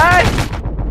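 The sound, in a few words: anti-aircraft guns firing on a barge, from a video game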